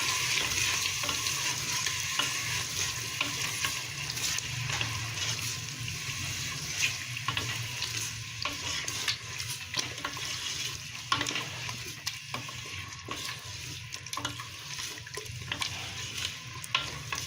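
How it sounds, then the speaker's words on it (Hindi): Mutton for aloo gosht fries with masala in a pan, a dense continuous sizzle with occasional soft stirring knocks, steady and fairly close throughout. "अब हम इसमें गोश्त ऐड कर देंगे और गोश्त को 5 से 7 मिनट भुनाई करनी है"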